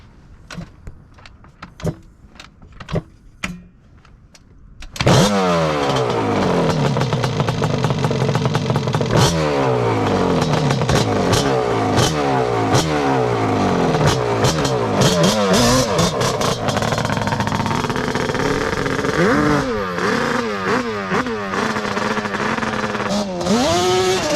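A Yamaha Banshee ATV with a 521 engine, started with no choke: a few light clicks, then the two-stroke fires and revs loudly and continuously with rising and falling pitch, close by.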